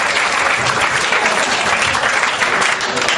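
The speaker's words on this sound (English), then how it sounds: "can I have like a big round of applause for John and my colleagues" A comedy club crowd at Roo Bar in Vienna breaks into dense, sustained applause, loud and close throughout.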